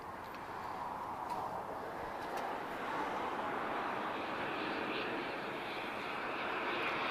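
A Boeing 737-8 airliner arriving at Lisbon Airport from Berlin, a steady broad jet roar holding at a moderate distance throughout, with no voices over it.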